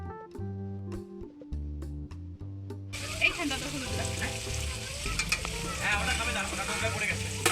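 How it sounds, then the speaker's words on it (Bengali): Chicken being stirred and fried with spices in a pan, starting under music and then a loud, continuous sizzle with spoon scraping and stirring clatter close by. "ভালো করে চিকেনটাও নেড়ে নিচ্ছি আর এদিকে মশলাটা ভালো করে কষিয়ে নিতে হবে"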